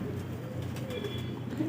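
Pet pigeons feeding at close range give soft, low cooing over quiet background rustle.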